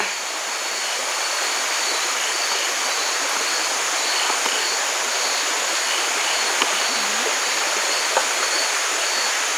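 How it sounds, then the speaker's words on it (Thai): Water flows steadily in a constant broadband rush from a nearby stream beside a forest campsite, continuing unbroken throughout. "ได้ยินแต่เสียงน้ำไหล"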